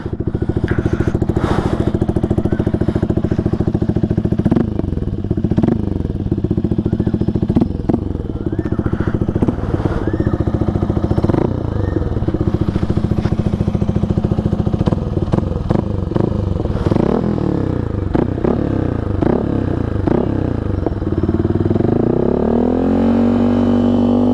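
A motorcycle fitted with an SC Project aftermarket exhaust idles and is revved repeatedly, giving a loud, deep, burbling drone broken by sharp throttle blips, with the pitch sweeping upward at the end.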